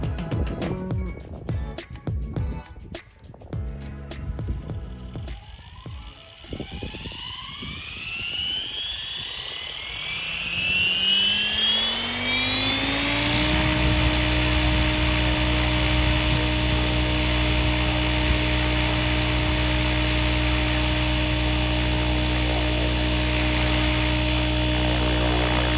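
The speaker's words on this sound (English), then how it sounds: "So here's the maiden flight. Not really flight. I gotta program the ESC first. And we're gonna get her up in the hover." A Soxos Strike 7.1 drone spins up on its maiden flight. Scattered clicks and brief motor bursts give way to a rising whine that levels into a loud, steady multi-tone buzz as it settles into a hover.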